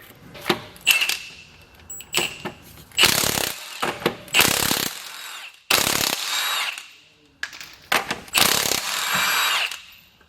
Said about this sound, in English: So step one, take the wheel off. It's a 3/4 socket.